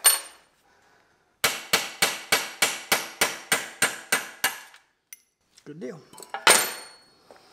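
A hammer strikes rivets on a sicklebar mower, about a dozen sharp, ringing metallic blows in a quick even rhythm, close and loud, followed by a few scattered clinks and a brief spoken remark.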